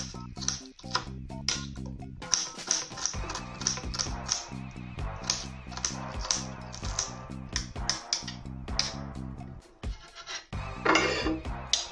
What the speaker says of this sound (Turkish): Bir tane küçük soğanımı doğruyorum.